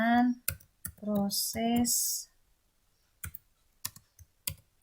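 A few faint, sharp computer mouse clicks come after a person talks, then sound alone in short bursts against near silence.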